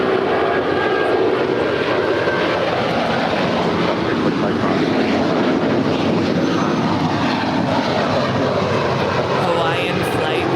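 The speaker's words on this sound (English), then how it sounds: "off to Honolulu, 10-year-old A330 200" A ten-year-old Hawaiian Airlines Airbus A330-200 departing LAX for Honolulu, its engines giving a steady, loud, broadband roar that holds throughout, with voices talking over it.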